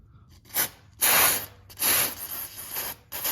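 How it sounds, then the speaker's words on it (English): Aerosol spray can lubricant hissing onto the moving parts of a garage door, in several short and longer bursts close by, with brief pauses between sprays. "Anywhere where you have parts moving, make sure you spray that."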